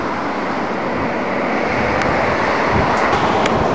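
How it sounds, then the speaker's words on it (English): Traffic noise from a nearby highway, a steady broadband roar of passing cars with no distinct individual passes and no talking. "We're right on the highway. You can hear cars going by."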